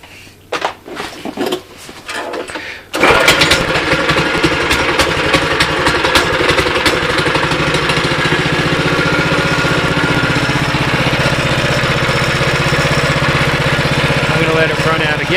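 Baja Warrior minibike with a Greyhound engine, a few clunks and pulls, then a small single-cylinder engine starting and running at a steady, rapid, loud putter close by.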